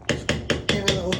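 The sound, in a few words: tapping a spoonful of sour cream into the pan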